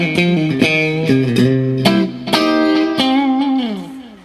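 A clean electric guitar on its middle and bridge pickups plays a series of plucked notes and chords, bright and slightly thin, ringing out with sharp attacks at an uneven pace.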